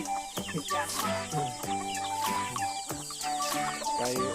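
Chickens cluck close by in a busy, overlapping chorus, with steady tonal calls and occasional sharper squawks over a continuous backdrop.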